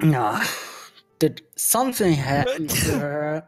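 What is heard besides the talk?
sneeze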